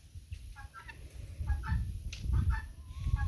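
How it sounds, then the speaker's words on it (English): A turkey hen with her brood of guinea fowl chicks gives soft, close clucks and short chirping calls in a few quick bursts, with a low rumble of wind or handling noise underneath. "There's Turkey Mama with her guinea babies."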